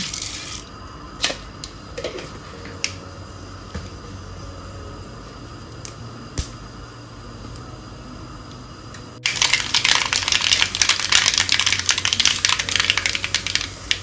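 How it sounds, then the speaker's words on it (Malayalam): Mustard seeds and fenugreek hit hot oil in a pan, and after a quiet stretch of faint clicks a dense crackling sputter suddenly bursts up and keeps going loudly to the end. "നമുക്ക് കടുക് ഇട്ട് കൊടുക്കാം."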